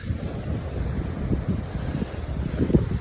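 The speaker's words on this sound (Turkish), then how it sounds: "Hava sıcak ama deniz dalgalı." Rough, choppy sea on a hot day, with steady wind buffeting the microphone over a continuous low wash of waves, loud and close throughout, no one speaking.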